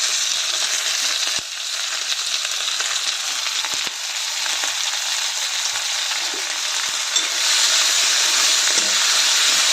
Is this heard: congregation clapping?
no